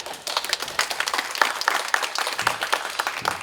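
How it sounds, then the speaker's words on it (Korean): An audience at a Korean academic presentation on the Jeju Beopjeongsa anti-Japanese movement site claps warmly, a brisk, steady burst of many hands that stays even throughout. "박수로 청해 보겠습니다."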